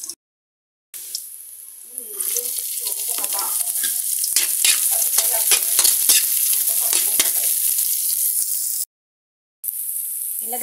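Garlic sizzles and crackles steadily in a hot pan as the first step of cooking pansit, with clinks of stirring scattered through and brief silent breaks at the start and end.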